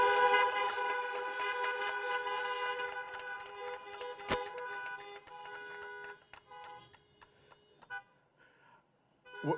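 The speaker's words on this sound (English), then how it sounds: "Let's honk those horns." Car horns honking at an outdoor Class of 2020 graduation ceremony in Batavia: many overlapping sustained honks blare together, then thin out into scattered short toots and fade.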